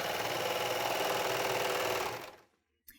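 A serger sewing machine running a 3-thread narrow stitch, a steady fast mechanical whir for about two seconds that winds down and stops, followed by a brief click.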